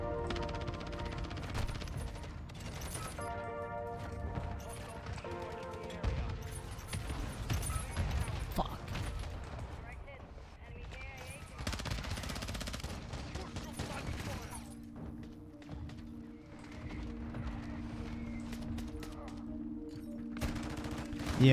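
Dense gunfire from the video game Modern Warfare 2, with rapid shots and bursts running throughout at a loud, steady level, mixed with other game sounds and some speech.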